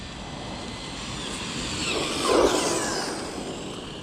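A 1/14 scale DeeRc 1217 or Jetwood JC14EP electric RC car running at full speed gives a steady, loud, high-pitched motor whine, swelling briefly as it passes close by before settling back.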